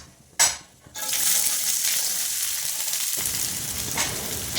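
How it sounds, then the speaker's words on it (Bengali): Onions frying in oil with panch phoron and dry red chillies, stirred in the pan: after a brief clatter and a short pause, a loud, steady sizzle takes over and carries on to the end, with no one speaking. "একটু পাঁচফোড়ন, শুকনো লঙ্কা খুঁড়ে যাওয়ার পর পেঁয়াজগুলো দিয়ে একটু নাড়াচাড়া করতে হবে।"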